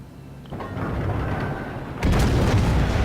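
Naval shells from the battleship Bismarck in the video game World of Warships, a low rumbling boom followed by a louder heavy blast near the end, with no talk.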